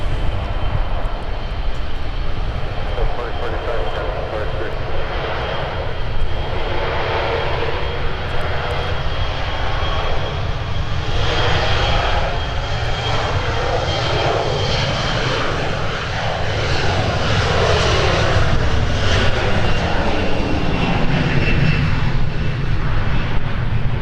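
Airliner engines roar steadily during a takeoff roll from runway 12 left at Minneapolis–St. Paul airport, a loud sustained rumble with a rising whine that builds and swells throughout.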